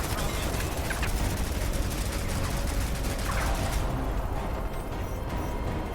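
Gunfire in Crysis 3 Remastered, a dense stream of rapid shots and bursts sustained across the whole clip, fairly loud, thinning slightly toward the end.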